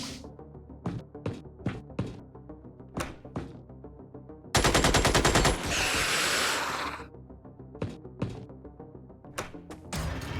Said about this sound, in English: Good overwatch from our machine gunner there.